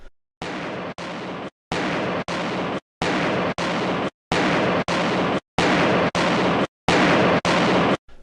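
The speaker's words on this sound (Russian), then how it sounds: "Чтобы вы могли определить моменты этих взрывов, я добавил аудио, к данному видео отношения не имеющее." Twelve loud, sharp explosions in the air, set in evenly spaced pairs with brief silences between them, each a broad full-spectrum burst.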